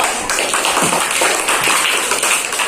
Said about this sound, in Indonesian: tepuk tangan untuk teman kita kelompok 1